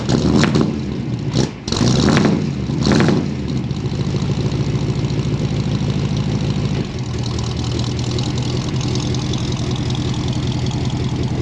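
A Ford car's engine idles steadily close by as it backs up, a constant low rumble running the whole time, with a few louder bursts of broadband noise near the start.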